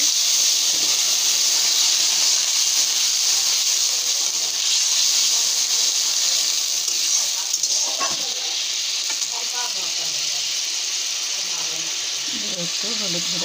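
Ginger and cumin paste frying in a pan hisses loudly and steadily after a splash of water, with a dense close sizzle throughout and faint voices in the background.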